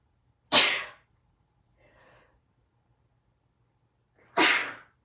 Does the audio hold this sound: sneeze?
yes